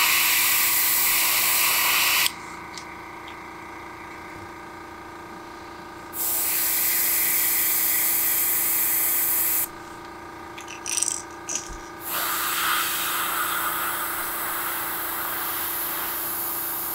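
Paint hisses from a sprayer onto a bluegill crankbait lure in three steady bursts of several seconds each, separated by quieter pauses, close and fairly loud with no talking.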